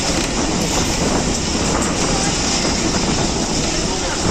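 Jaffar Express passenger train rolling slowly on its way from Rawalpindi toward Lahore, heard as a steady, loud broadband rumble with continuous wheel and carriage noise and no clear gaps.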